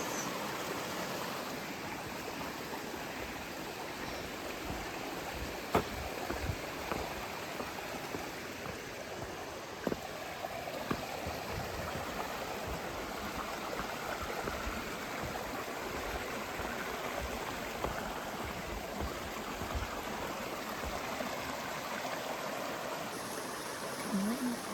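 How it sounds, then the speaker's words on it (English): A brook flows beside a hiking trail on the Appalachian Trail, a soft continuous burble and wash of water with faint scattered footsteps or clicks. "Look at the lovely brook beside us."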